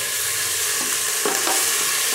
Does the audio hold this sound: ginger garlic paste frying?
yes